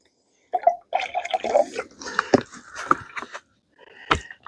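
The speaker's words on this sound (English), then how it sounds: "we just put a little bit of water in here for the coffee" Water is poured into a Jetboil pot for camp coffee at a dugout shelter. It gives a short gurgle and splash with uneven trickles and a few sharp drips or taps, close and fairly quiet, with no talk.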